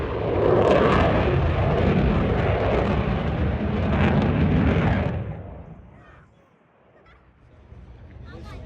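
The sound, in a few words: military jet aircraft flying at an airshow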